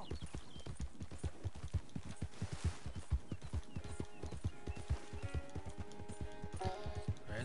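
Horse hooves clip-clop in Red Dead Redemption 2, a steady rapid rhythm of hoof strikes at close range with a soft whinny-like tone near the end, no speech.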